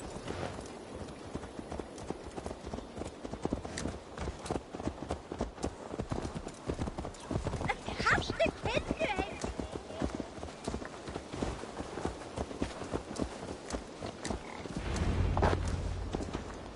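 Horse hooves clip-clop steadily in the Assassin's Creed Valhalla video game, a continuous even walking rhythm of close, clear thuds over faint ambience, ending with a low rumble.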